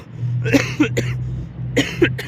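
Harsh, close coughs burst out in two bursts of a few hacks each, over a steady low hum, from a sick factory worker in Saudi Arabia.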